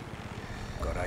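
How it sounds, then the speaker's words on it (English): A propeller airplane from the game Far Cry 6 drones overhead through a busy in-game mix, rising in loudness near the end as it passes close. "Of course, there's a damn plane."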